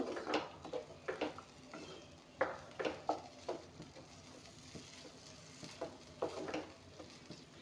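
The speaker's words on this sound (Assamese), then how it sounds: "গ্ৰীণ মটৰখিনি অলপমান ভাজি ল'ম এনেকৈ।" Green peas fry in a pan alongside a carrot dish, turned with a utensil in light, scattered scraping taps over a faint background hiss; the sound is fairly quiet and close.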